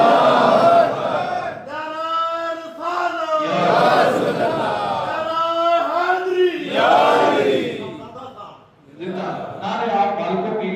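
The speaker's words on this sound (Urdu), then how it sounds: "نعرہ تکبیر" Crowd at a religious lecture gathering chanting the takbeer slogan in unison, loud sustained chorus of voices in repeated swelling calls, with a brief dip before a final shout.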